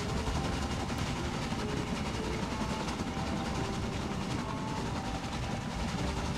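A train rolls past in Euro Truck Simulator 2 with the ProMods map, a steady, loud broadband rumble with faint clickety-clack of wagons holding constant throughout, no voices.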